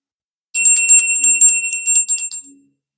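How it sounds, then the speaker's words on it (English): A small bell rung at the start of a tarot reading gives a rapid, bright jingle of bright strikes for about two seconds, close and loud, then fades to silence. "We're going to ring the bell"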